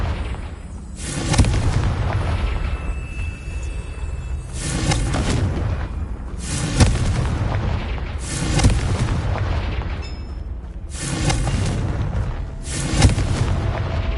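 Confringo fire spells go off in the video game Hogwarts Legacy as a series of heavy, booming blasts. Six or so loud bursts come every couple of seconds, each with a rumbling tail over steady game ambience.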